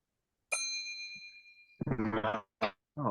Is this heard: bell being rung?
yes